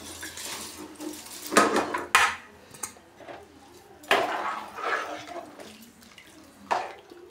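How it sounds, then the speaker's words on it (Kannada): Rice tipped into a pot of hot water with coriander, coconut and lemon juice, heard as several loud metallic clanks and scrapes of a vessel and spoon between quieter patches, close up with no voices. "ಹಾಗೆ ಅಕ್ಕಿ ಕೂಡ ಹಾಕ್ತಾಯಿದ್ದೀನಿ."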